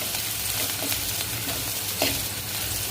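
Garlic and curry leaves frying in hot oil for a Maharashtrian spinach, peanut and chana dal dish, giving a steady, close sizzle with faint stirring scrapes and no talk.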